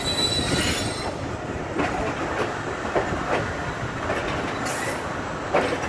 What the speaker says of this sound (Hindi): तो फाइनली हम आहिस्ता आहिस्ता कोटी जंक्शन से निकल रहे हैं प्लेटफॉर्म 3 से होते हुए।